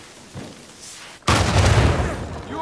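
An explosion in the video game Uncharted 4 hits abruptly after a quieter stretch, a loud broadband blast whose rumbling debris and roar sustain to the end, with faint talk beforehand.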